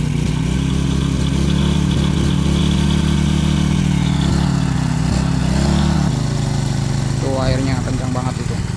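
An engine-driven water pump runs loud and steady close by, draining water from the foundation of a swiftlet house under construction; the engine tone shifts partway through and a voice speaks over it.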